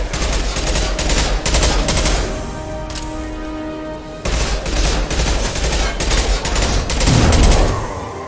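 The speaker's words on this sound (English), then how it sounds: "Shotgun!" Shotgun blasts and rapid gunfire in a Mass Effect: Legendary Edition battle, loud bursts of repeated shots with a brief lull of ringing tones before the firing resumes.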